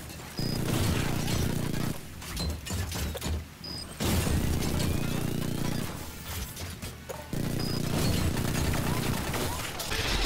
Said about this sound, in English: You have unlimited pistol ammo, so you can just fire away and take him down